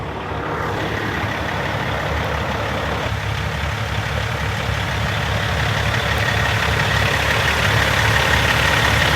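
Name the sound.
Peterbilt truck engine idling after first start-up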